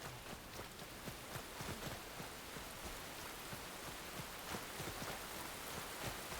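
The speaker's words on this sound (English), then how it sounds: "the rain's moved back in. Oh, can you hear the wet footsteps as well?" Rain falls steadily in the game Enshrouded, a soft, even hiss with faint irregular sloshy footstep taps on wet ground mixed in, quiet and continuous with no talking.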